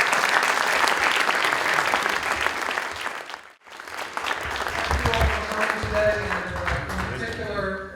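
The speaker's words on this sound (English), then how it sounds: "Everyone, a round of applause for that." An event audience gives a round of applause, heavy and dense at first, then briefly dropping away before clapping resumes. A voice and some low rumble come in toward the end.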